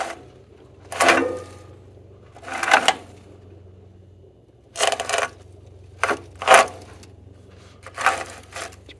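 A 1970s Cub Cadet garden tractor with a starter-generator combo being cranked over, leaves and debris inside, giving five short bursts of whirring, grinding cranking separated by pauses over a low steady hum, with no speech.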